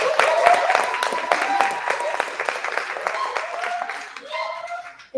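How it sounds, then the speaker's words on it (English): Live audience claps for the Sacred Woman during a radio broadcast, a scattered round of hand claps with a voice speaking over it and fading out near the end. "Clap it for the Sacred Woman."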